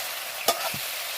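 A spoon stirs chicken curry frying in a pan: one sharp scrape over a low, steady sizzle, close and brief, with no talking.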